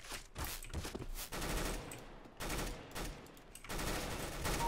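Bursts of automatic gunfire from CS:GO sound in several separate volleys with short gaps between them, with no talking over the shots.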